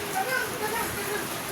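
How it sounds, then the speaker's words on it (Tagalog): Heavy rain pours down over a shoreline camp with a tarp shelter and strong waves, a dense steady hiss throughout with faint voices underneath. "Lakas ng ulan at lakas ng alon."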